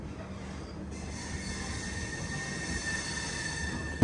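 The Secunderabad–Vasco da Gama bi-weekly express pulls out of Secunderabad station, a steady low rumble and rolling wheel noise with a faint high squeal, heard from inside the train at moderate, even loudness.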